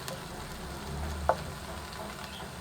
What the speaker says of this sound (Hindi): प्याज को हल्का सा फ्राई करेंगे